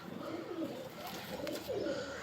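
Pigeons kept in a loft coo softly in rolling, repeated phrases, fairly faint and alone.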